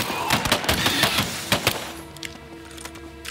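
Rapid gunfire bursts from an auto turret in the video game Earthfall, loud and dense for about two seconds, then thinning into sparse, fainter shots over a tonal game background.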